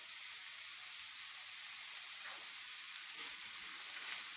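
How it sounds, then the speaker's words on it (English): Nettles frying in a hot pan with garlic give a steady, close sizzling hiss that holds evenly throughout, with faint stirring scrapes near the end. "And you can put your nettles directly in the pan."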